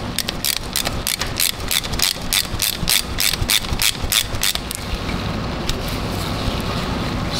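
Ratchet unscrewing a bolt on a Chevy Trailblazer: a loud, rapid, steady clicking of the pawl for about five seconds, then fading into a rougher mechanical rattle and hiss.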